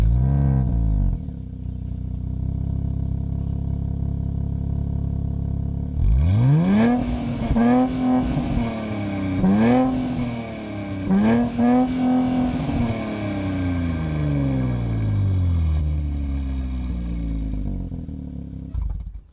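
A 2024 Nissan Z Nismo twin-turbo engine cranks and roars to life, then revs sharply several times, each blip climbing and falling back to a rumbling idle, loud and close.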